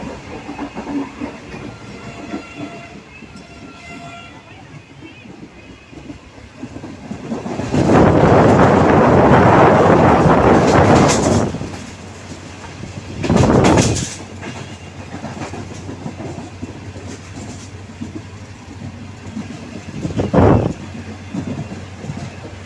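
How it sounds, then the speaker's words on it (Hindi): The Awam Express runs at full speed toward Jung Shahi station, a steady rail rumble with clickety-clack that swells into a loud roaring rush, then several shorter surges and some wind buffeting. "अब आवाम एक्सप्रेस अपनी मंजिल यानी कि जंगशाही रेलवे स्टेशन की तरफ भरपूर स्पीड में रवां दवा है।"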